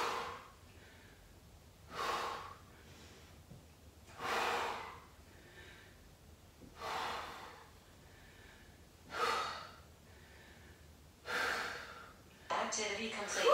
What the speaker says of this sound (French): La respiration.